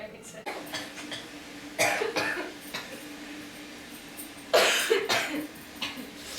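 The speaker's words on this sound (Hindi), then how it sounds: "कौन खांस रहा है?" Someone coughs indoors at night near a mosquito net: several short hacking bursts in two main clusters, fairly close, separated by quiet stretches.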